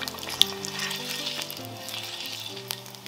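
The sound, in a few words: mutton fat rendering, sizzling in a wok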